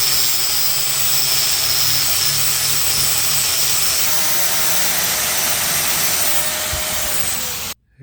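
An angle grinder with a flap disc scours surface rust off square steel stock being prepared for welding on a Jeep CJ5, a loud, steady, high-pitched abrasive whine running continuously for nearly the whole span before cutting off abruptly.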